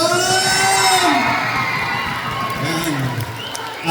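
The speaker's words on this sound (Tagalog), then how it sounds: "Isang malakas na palakpak na may kasamang sinigawan!" A crowd at a community competition event claps, shouts and cheers loudly, with whoops and children's voices mixed in, the roar easing slightly midway and swelling again at the end.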